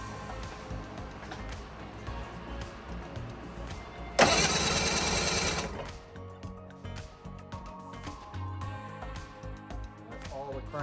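A four-cylinder engine cranks over for about a second and a half during a compression test on its last cylinder: a loud, dense burst of starter churn that stops abruptly, with quieter workshop sounds and talking before and after.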